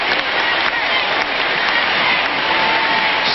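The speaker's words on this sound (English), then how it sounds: "A thunderous ovation from this crowd" Loud, sustained applause and cheering from a large stadium crowd at a 1999 Women's World Cup group-stage soccer match between the USA and Nigeria, at half-time, filling the whole stretch as a dense, steady roar.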